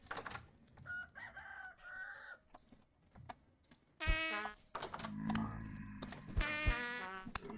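Chickens in the Vintage Story video game cluck and crow in bursts, with short squawking calls and a louder crowing stretch in the second half, fairly quiet overall.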